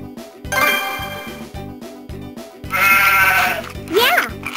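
Sheep bleating in the Bubble Guppies DS video game, two or three wavering cartoonish bleats over a bouncy game music loop with chimes.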